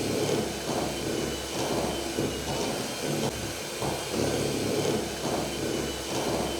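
An electric mixer beats cream cheese, butter and icing sugar for red velvet cake frosting, a loud continuous motor whir with a slowly pulsing rhythm as the bowl turns.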